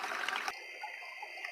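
Water fills a betta fish tank, with a short, faint trickle and gurgle close by that settles into a quieter running sound after half a second.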